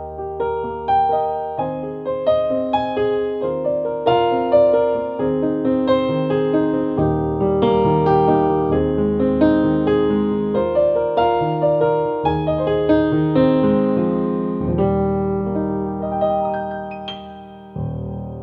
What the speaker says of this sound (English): So this is the sound of the studio grand piano,